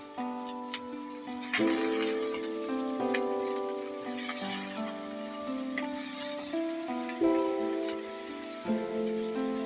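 Jute leaves drop into a wok of frying prawns, giving a soft, continuous sizzle under a steady sustained musical background.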